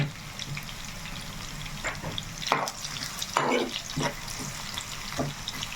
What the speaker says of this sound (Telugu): చక్కగా మనం ఉల్లిపాయలు అలా ఎర్రగా వేసుకోవాలి